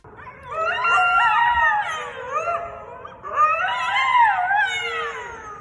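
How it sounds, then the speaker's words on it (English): A coyote out on Kirby Cove beach in San Francisco howls and yips in two long, wavering bursts, close and clear, with no talking. "San Francisco photographer Scott Oler, a coyote is seen exploring Kirby Cove, a beach area."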